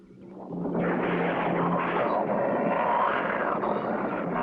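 Engine of a cartoon crop-duster plane roars up after a short build and holds at a loud, steady drone for several seconds, close and without speech.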